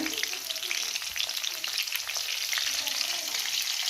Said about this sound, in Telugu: నూనె వేడెక్కగానే పచ్చిమిరపకాయలు వేసాము